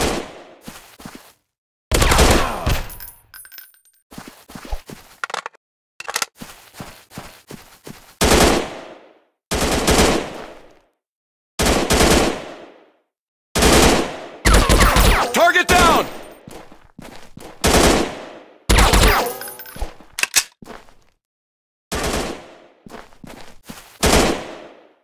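Gunfire in the mobile shooter game Counter Terrorist Strike, loud bursts of rapid automatic shots in separate volleys with short silent gaps between them, repeating throughout.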